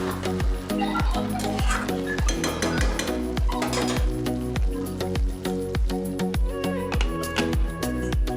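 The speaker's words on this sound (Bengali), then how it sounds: "এঁচড়টাকে মাঝে মাঝে উষ্ণ গরম জল দিয়ে ভালো করে কষিয়ে নিতে হবে।" A spoon scrapes and knocks repeatedly against a pan as jackfruit is stirred and sautéed with a little warm water for a mutton-style echor kosha, in a steady, rhythmic series of sharp metallic clinks, close and loud.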